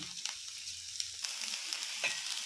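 Food roasting on an oiled tawa until lightly reddened, giving a quiet, steady crackle with scattered soft pops and clicks throughout, heard alone with no talking.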